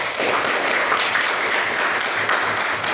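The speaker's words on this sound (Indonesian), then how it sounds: "Tepuk tangan dulu untuk kita semua" Students and teacher clap together at the end of a mayonnaise emulsion experiment in class, a continuous, fairly loud burst of many hands with faint tapping texture and no clear speech over it.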